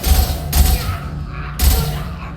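Gunfire during a Mass Effect 2 battle, three loud booming shots spaced about a second apart, each with a short rumbling tail, close and punchy.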